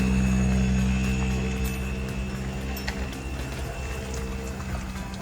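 A Chevy Silverado with the 2.7L turbo engine tows a boat uphill toward Lake Murray, giving a loud, steady engine drone with a faint high turbo whine over constant road rumble throughout.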